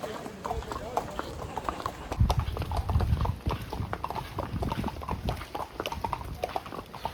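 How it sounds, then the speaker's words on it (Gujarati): Horses carrying riders clip-clop steadily along a path at Matheran during monsoon rain, hooves close and rhythmic under people talking. "હવે જઈ રહ્યા છે ઘોડા પર"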